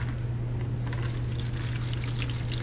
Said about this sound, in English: See, all the water just got sucked out.